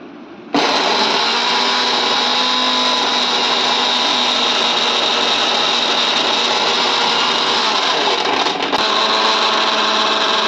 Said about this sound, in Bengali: তো এটাকে আবার মিক্সিতে চটপট পেস্ট করে নিই